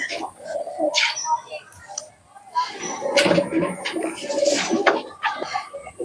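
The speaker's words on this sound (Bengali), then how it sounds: "এই ঘরেও কবুতর আছে অনেক" Pakistani pigeons cooing in a loft, soft low coos repeating through a busy room with scattered clatter and someone speaking over them.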